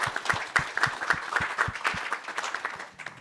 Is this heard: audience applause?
yes